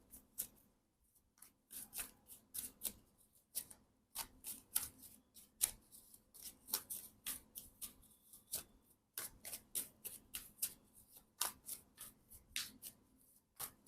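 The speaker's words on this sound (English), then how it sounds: "One more shuffle and we are going for it." A deck of tarot cards is shuffled close up in a quiet room, giving a steady run of crisp riffling snaps and soft slides that pause briefly now and then before starting again.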